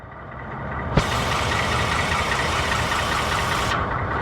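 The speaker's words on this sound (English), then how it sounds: "So the truck is running. It's in park." A 2019 Ford F-150 pickup sits running in park, its engine idling with a steady, continuous broadband rumble close by, and a brief knock just before the sound swells slightly louder.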